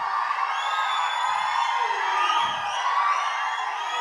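Fans at a film speech event cheer and whistle in a sustained, loud roar, with high shrill whistles layered over dense crowd noise.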